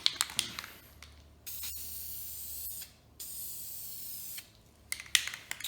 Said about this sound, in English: Just spray a little out to get it going.